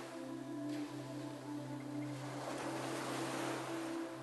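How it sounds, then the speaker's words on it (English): Ocean waves wash in a soft, continuous surf with gentle swells rising and falling, steady and moderately distant, with a low hum underneath. "the relaxing sounds of the waves"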